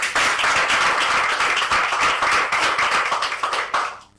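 An audience at a political address claps in a dense, sustained burst of hand claps, loud and close, tapering off at the end.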